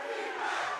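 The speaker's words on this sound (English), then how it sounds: "the crowd getting involved now" A large crowd at a Valorant esports match at the Champions Tour 2024 Masters Madrid, Sentinels versus Team Heretics, roars and cheers continuously, a dense sustained wash of voices swelling slightly toward the end.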